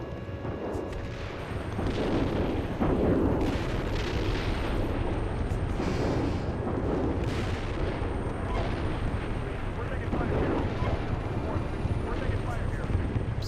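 Repeated booming artillery shell impacts and heavy rumbling in the tank simulator game Steel Beasts Pro PE, with rotor-like drone and radio chatter running underneath.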